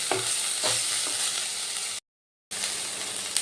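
Steady sizzling of drumstick flowers frying in a pan, continuous and close, with brief stirring scrapes and a short gap of silence partway through.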